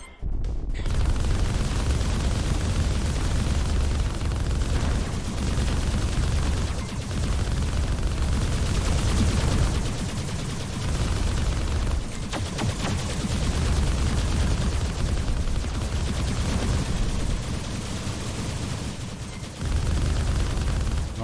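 Dense, continuous gunfire and explosions from turrets in the shooter video game Arc Savior, a loud unbroken barrage with no clear gaps.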